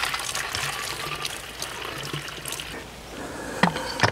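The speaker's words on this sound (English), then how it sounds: "I will top that up with the special water I just got, making up a mixture of about 5 to 1" Water is poured into a sprayer to top up a cleaning mixture for caravan chassis and tyres, a steady close liquid trickle with a couple of sharper knocks near the end.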